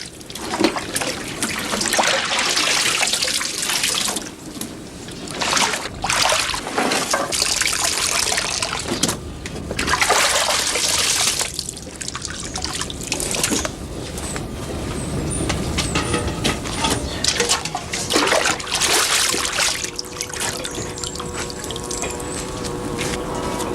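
Water drains and trickles from tarps hung over a pole after covering fruit, a continuous close splashing and dribbling with fluctuating intensity and no voices.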